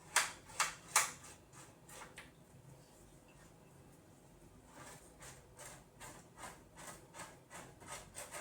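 Close, quiet scraping of a knife along an aloe vera leaf with the grain, three sharp strokes at the start, a lull, then a steady run of softer rhythmic scrapes.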